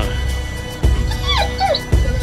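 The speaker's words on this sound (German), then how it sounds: "lasse die Hunde jetzt hier unten am Strand noch ein bisschen rumtoben" Dogs romping on a winter beach give short whimpers and high yips in quick rising and falling bursts, with a couple of dull thumps and steady background rumble, no speech.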